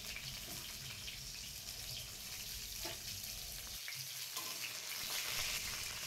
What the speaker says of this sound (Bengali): তেল গরম হয়ে গেছে, একে একে পটলগুলো তেলে ছেড়ে দিলাম।